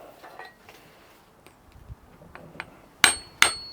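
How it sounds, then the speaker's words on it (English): A screwdriver is driven into the bottom of a Spam tin, giving two sharp metallic punches close together near the end after faint handling noises. "I always like to put a hole in the bottom first."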